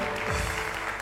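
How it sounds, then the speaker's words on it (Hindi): An audience claps on a TV game-show stage, a brief dense burst of applause lasting about a second with a low rumble beneath. "तालियां बजा दें जरा"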